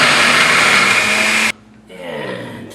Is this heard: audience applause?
no